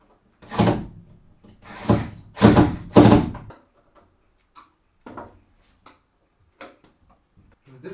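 A heavy handmade wooden plant cabinet door is shifted and tilted, giving three loud close thuds in quick succession followed by scattered softer knocks and creaks.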